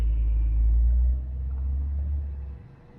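A car passes on a road beside the Rialto, its deep rumble loud and close for about two seconds before quickly dropping away.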